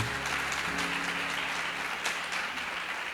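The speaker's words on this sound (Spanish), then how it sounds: "No sé si usted puede darle un aplauso al Señor." A church congregation applauds during a sermon, a moderate, steady spread of clapping with faint sustained tones underneath, holding evenly for a few seconds.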